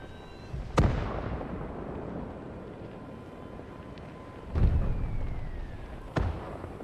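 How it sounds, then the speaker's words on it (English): Artillery fire and shell explosions in the WWII strategy game Call to Arms: Gates of Hell, set in a 1943 Leningrad battle; a few sharp booms land at intervals over a steady rumbling background, with no voices. "Good artillery hits there."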